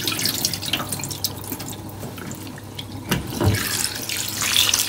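Tap water running in a kitchen sink while raw chicken is washed for stew: a steady close splashing stream with intermittent drips and the thump of the meat being handled under the flow.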